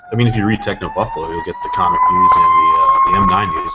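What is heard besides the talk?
emergency vehicle siren outside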